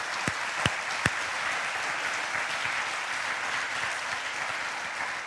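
Sustained applause from a church congregation, a steady dense wash of clapping with a few sharp louder claps near the start, continuing evenly throughout.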